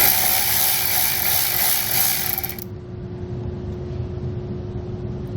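A 10mm socket ratchet loosens the positive battery terminal nut on a 2018 Tesla, giving a dense, close run of clicking for a few seconds before it stops, leaving a quiet hum.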